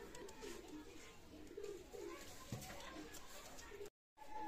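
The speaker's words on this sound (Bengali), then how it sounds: "রানিং পেয়ার কবুতর" Pigeons cooing softly in low, rolling calls against a busy background of a pigeon market with distant voices and faint chatter.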